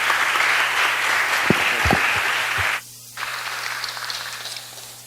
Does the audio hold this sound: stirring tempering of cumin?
no